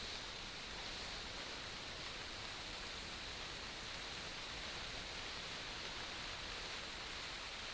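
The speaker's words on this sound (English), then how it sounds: "Figured it would start raining just when I start walking across here" Steady, faint rain hisses evenly across an open field during a hunt, with a constant wash of drops and no voices.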